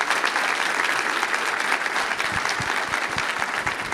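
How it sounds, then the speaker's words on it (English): An audience at a real estate symposium gives a big, sustained round of applause for a speaker, the clapping loud and continuous, with a few deeper thumps mixed in. "let's have a huge round of applause for Andrew Samwick"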